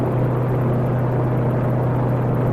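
A Mini-500 helicopter in the X-Plane flight simulator, its engine and rotor making a steady, close, continuous droning hum with a strong low tone and no pauses.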